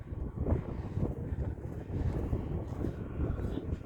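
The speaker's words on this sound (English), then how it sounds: "Probably the wind is picking up again here." Steady low wind rushes and buffets the microphone outdoors during a small snowstorm on a farm, a continuous muffled roar with no voices.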